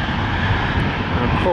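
A Sun Country airliner landing at Minneapolis, its engine roar a steady broadband rumble heard close and loud throughout, with people talking underneath.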